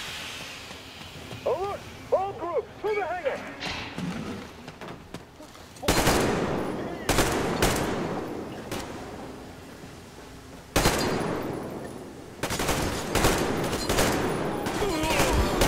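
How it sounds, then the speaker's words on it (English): Gunfire in Metro Exodus, loud bursts of automatic shots and sharp impacts arriving in clusters after a quieter opening, with people talking over the combat. "God damn it, they keep shooting me"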